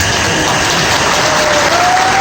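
Audience applause at a Kapil Mishra speaking event in Mumbai: a dense, steady wash of many hands clapping together, loud and continuous from start to finish with no voice rising above it.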